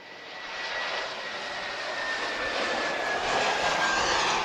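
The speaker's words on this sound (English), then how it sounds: "Temos já nas imagens um Fly to Sky, um Airbus A321." An Airbus A321 airliner at Lisbon Airport, its engines giving a loud, steady jet roar that swells slightly as it passes, heard alone without voices.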